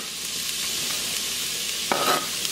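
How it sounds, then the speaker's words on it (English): Chopped onion sautés in added olive oil inside a pressure cooker, a steady close sizzle with a brief scrape of stirring near the end and no voices. "We're gonna let that saute for 1 to 2 minutes until it starts to soften up."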